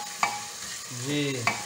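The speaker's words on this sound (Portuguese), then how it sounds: "cebola e pimentão dourando, refogando." Onion and bell pepper browning in a pan, a steady close sizzle with a couple of sharp stirring scrapes and a short hum of a voice in the middle.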